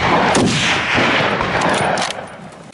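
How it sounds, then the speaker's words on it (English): A volley of gunfire at wild boars in a remote mountain area: loud, close shots with booming reports that blur together, ringing out and slowly fading toward the end. "Gunfire crackled through the remote mountain area as we unleashed a volley of shots."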